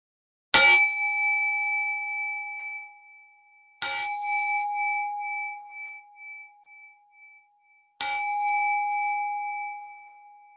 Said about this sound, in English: I'll go ahead and ring the bell to close our sit together.